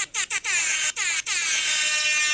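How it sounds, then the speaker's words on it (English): Panic air horn blasting in a rapid stuttering burst of short honks, then one long sustained blare, loud and close with no talking. "That's a panic air horn."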